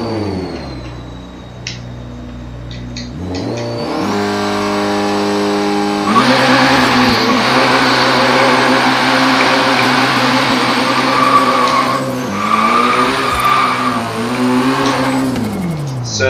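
Forza Horizon 3 car launch, engine revving low then rising into a loud, sustained high-revving whine with tire squeal and gear changes, close and continuous with no voices.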